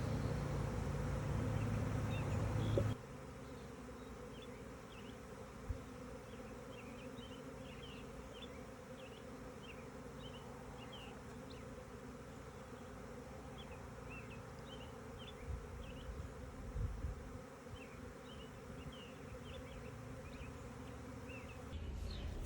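A honey bee swarm buzzes around a hive box, a dense, continuous drone with individual bees zipping past, moderately close and steady throughout.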